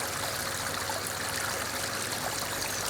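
Water trickles and splashes down the small waterfall of a garden wildlife pond fed by a filtered, UV-treated pump, a dense, steady close-up babble with no voices.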